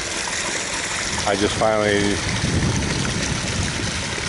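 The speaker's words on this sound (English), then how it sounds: "So this will definitely drain enough water out of this pond" Water gushes steadily out of a pond through a freshly dug canal, a continuous broadband rushing flow, fairly close, with someone briefly speaking over it.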